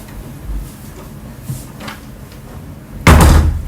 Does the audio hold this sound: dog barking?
no